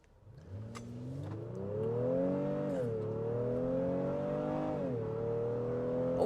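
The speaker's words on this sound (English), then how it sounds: "so do our traffic light Grand Prix acceleration test" A 2023 Honda Pilot Black Edition in sport mode accelerates hard from a standstill, its engine note climbing through two upshifts, loud and close from inside the cabin, with no talk.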